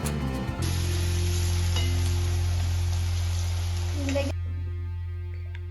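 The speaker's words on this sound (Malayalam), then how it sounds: "ഇനി ഹൈ ഫ്ലെയിമിലിട്ട് നന്നായിട്ട് ഒന്ന് വാട്ടിയെടുക്കാം" Onions sautéing over a high flame in a pan, a loud steady sizzle running for several seconds before easing off, with light stirring scrapes beneath.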